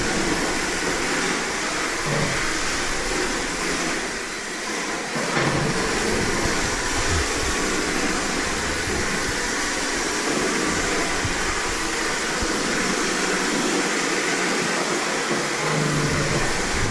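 An RC car drifting gives a continuous high-pitched electric motor whine with tire scrub and hiss, loud and sustained, with brief dips and surges in intensity, and no voices.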